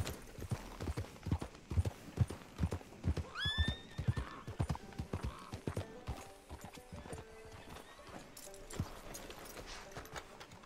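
Steady clip-clopping horse hooves in a video game, on a hard surface, close and rhythmic, with a horse whinnying briefly partway through.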